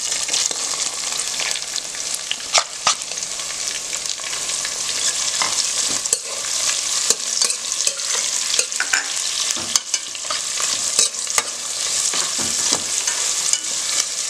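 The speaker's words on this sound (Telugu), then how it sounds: "ఉల్లిపాయ అనేది మనకు కొద్దిగా బాగా ఫ్రై అవ్వాలండి." One cup of thinly sliced onion frying with whole spices in a home kitchen pan, a continuous bright sizzle broken by scattered pops and the scrape of stirring, close and steady with no talking.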